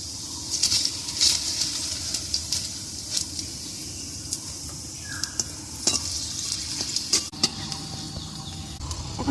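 Dried red chilies and white cumin seeds sizzle steadily in hot oil while a Bengali drumstick posto dish is cooked, with occasional stirring scrapes and utensil clinks over the continuous frying hiss.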